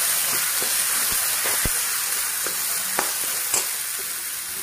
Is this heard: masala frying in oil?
yes